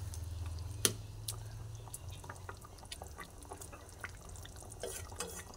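Fried pointed gourd stirred in a pan of gently simmering liquid, soft scraping and light liquid stirring sounds with a few small clicks, faint and close, no voices.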